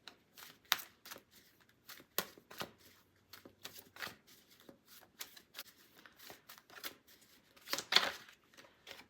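Tarot cards are shuffled for a reading with rapid, irregular riffling snaps and soft slides, near and clear, repeating in bursts with a louder flurry toward the end.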